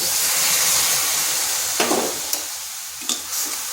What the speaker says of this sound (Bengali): আবার চিনির সাথে সুজির সাথে ভালো করে মিশিয়ে নিচ্ছি